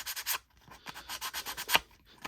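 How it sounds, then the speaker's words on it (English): A sanding block rubbed over a card, with quick rhythmic scraping strokes, about a dozen short rasps close up in quiet surroundings. "I'm going to start with this brand new one, and I have a sanding block"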